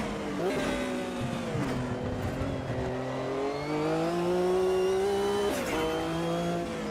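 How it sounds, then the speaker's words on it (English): A turbocharged Ferrari engine in a sim racing game spools up: a steady, rising drone with layered harmonic whine climbs in pitch, briefly dips at a gear change, then keeps building, loud and continuous. "You could hear the turbo spinning and then the power come."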